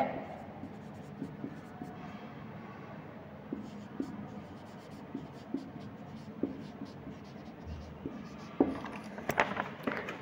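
Pen or chalk writing during a steel structures lecture on bolted connections, a steady faint scratching with small taps and strokes, quiet and continuous beneath room noise.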